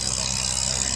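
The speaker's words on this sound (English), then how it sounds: "You've got that tractor running full power right now." At a tractor pull at the Ingham County Fairgrounds, a tractor engine runs at full power with a steady, loud, low roar and a hissy rush, alone and continuous for about a second.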